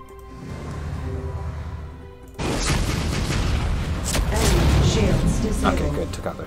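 A starship weapon strike lands in the space strategy game Sid Meier's Starships, a loud broadband boom that swells at about 2.4 seconds and rumbles on under a steady game soundtrack and voices.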